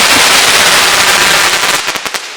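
Cheap Chinese-made firework mortars from a roadside stand burst at a backyard fireworks show, a dense loud crackling barrage that ends in a few sharp separate pops.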